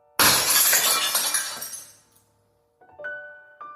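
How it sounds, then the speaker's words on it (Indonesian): A mobile phone is smashed onto a glass table, and the glass shatters in one loud burst with shards raining down and tinkling for a couple of seconds, followed by a few faint clinks. "dibantinglah telepon genggam ke meja kaca sampai pecah"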